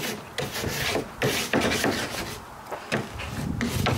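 A firm-bristled bathroom scrub brush is worked over a waxed ski base, making a close, continuous rough scrubbing with quick rhythmic strokes.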